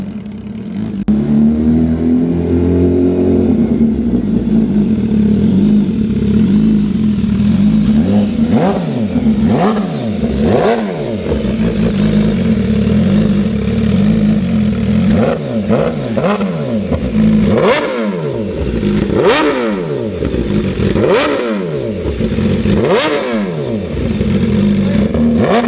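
An MV Agusta Brutale 1000RR motorcycle fitted with a rare titanium exhaust revs hard and repeatedly, loud and close, its engine note rising and falling in sweeping bursts over a steady rumbling idle.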